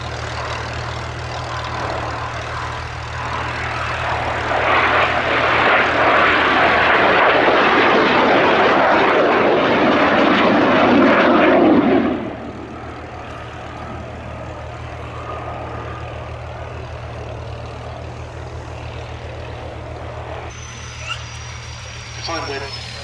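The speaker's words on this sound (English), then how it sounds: "The final break by the pair of BAC Strikemasters." A pair of BAC Strikemaster jets at the Duxford Summer Airshow 2022 makes a loud, rushing engine roar for about twelve seconds, then drops away abruptly, leaving a quieter steady background hum.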